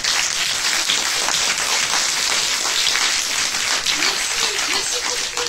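Concert audience applauding the music teachers, a dense, steady wash of clapping filling the hall without pause, with faint voices mixed in.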